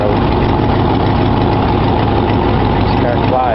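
1965 Cadillac limousine engine running close by with a deep, steady low rumble, someone talking over it.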